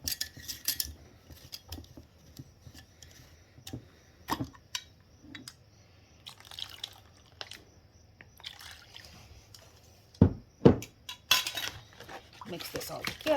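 Vegetable-heavy breakfast bake ingredients stirred together in a dish, scattered clinks and scrapes of utensil on dish with quiet gaps between them, a louder clattering burst near the end, close by with no speech.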